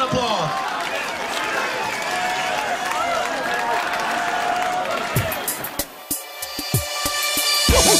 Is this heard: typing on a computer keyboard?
no